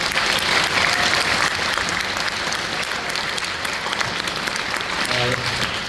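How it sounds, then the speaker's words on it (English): A school concert audience gives a round of applause for a retired band director serving as judge, with dense, steady clapping filling the room throughout. "You guys give him a round of applause."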